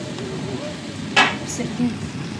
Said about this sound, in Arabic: هنشف الفراخ كده بس وننزل منها كل السوائل على البوتاجاز